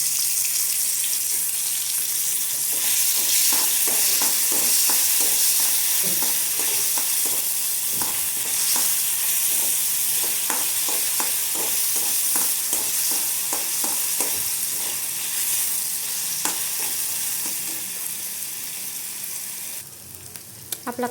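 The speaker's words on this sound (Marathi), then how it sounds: "आता आपण टोमॅटो टाकून घेऊ।" Chopped tomatoes tossed into onions frying for egg bhurji, setting off a loud continuous sizzle with repeated scraping stirs of a spoon against the pan, close up and without talking.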